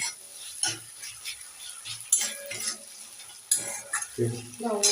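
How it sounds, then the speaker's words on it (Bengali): Chopped tomatoes and ground spice paste fry in a pan while being stirred. Soft sizzling runs under repeated scraping and clinks of a utensil against the pan, close up. "মশলা দিয়ে ভালো করে নেড়ে চেড়ে আবারও এক মিনিট ভাজবো"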